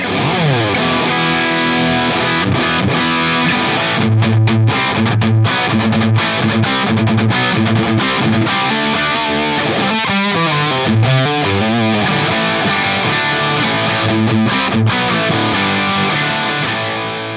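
An electric guitar plays through a heavily overdriven amp, overdrive set around 8 to 9, thick distorted chords and riffs ringing out loudly with choppy stops and sustained notes.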